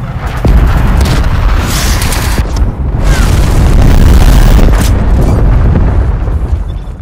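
A proximity mine blowing up in the shooter game Black Ops Cold War, heard as a loud, sustained booming blast with rumbling low-end debris that dips briefly and swells again, with no talk over it.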